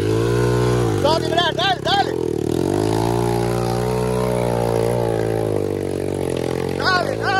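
A Honda CG motorcycle labours up a steep dirt trail, its engine droning loud and close with rising revs, while people shout encouragement over it.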